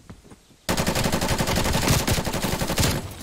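Sustained rapid-fire bursts from the LAPA submachine gun in Black Ops Cold War multiplayer, loud and continuous after a quiet start, each shot a quick crack in a dense rattling stream.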